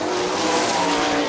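Sprint cars race at Kokomo Speedway with a loud, continuous engine roar at full throttle, as one car comes off turn four with its front wheels lifting.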